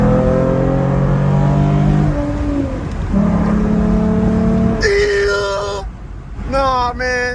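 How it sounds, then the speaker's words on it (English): A V6 Ford Mustang engine revs hard on a downshift, a loud rising-then-falling harmonic drone followed by sharp, high bursts of revving near the end, heard from inside the car. "let me just hit y'all with a little downshift"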